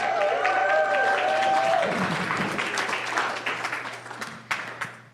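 A congregation at a Sunday celebration service applauds the band, steady dense clapping as held tonal notes fade out, thinning toward the end with a few louder individual claps.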